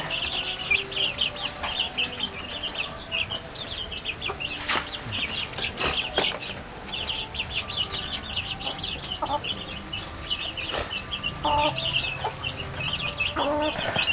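Black Australorp chickens cluck and chatter in a farm pen, a busy mix of overlapping calls and short squawks at moderate distance, continuous throughout with occasional sharper cries.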